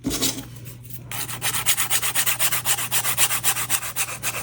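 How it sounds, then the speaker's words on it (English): Edges of a resin mantle clock are sanded by hand in quick, even back-and-forth strokes, a close rhythmic rasping that follows a short pause and runs without talk. "Make sure your edges are sanded before you give things away."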